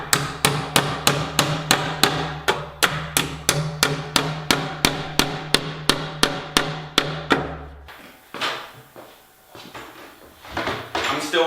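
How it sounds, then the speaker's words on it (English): A hammer drives nails into electrical boxes in a basement remodel, sounding as a steady run of sharp, evenly spaced blows, about twenty in a row, before they stop and softer handling noises follow. "One way I'm going to save money is nail these electrical boxes to save the electrician"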